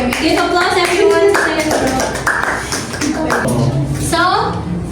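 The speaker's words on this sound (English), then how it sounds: "Give applause everyone" Classroom applause after a student's story presentation, several people clapping in scattered bursts close by, mixed with overlapping children's voices and chatter.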